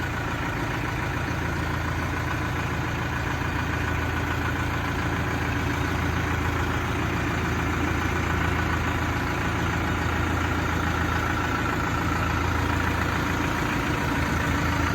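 A Basak tractor's diesel engine idles steadily and evenly for the whole stretch, a close, continuous low rumble with a faint high whine above it and no talking.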